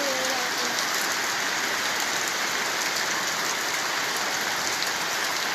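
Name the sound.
rain falling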